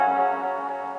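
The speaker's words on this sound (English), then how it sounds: "That's a nice delay." An electric guitar rings out through a delay pedal, one sustained chord whose repeats blend into a smooth, shimmering tail that slowly fades.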